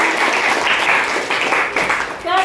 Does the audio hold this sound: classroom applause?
yes